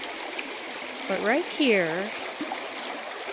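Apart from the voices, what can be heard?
bubbling creek flowing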